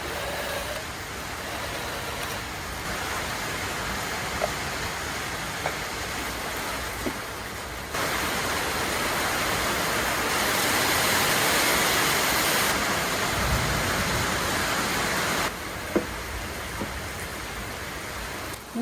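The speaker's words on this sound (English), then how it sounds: "Looks like we're working in the rain." Heavy storm rain pours down steadily as a dense, hissing wash, growing louder in the middle stretch with a few faint knocks breaking through.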